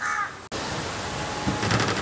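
A crow caws a few times nearby in an outdoor kitchen setting while fish is being cleaned for an Andhra-style fish curry, brief harsh calls over a steady noisy background.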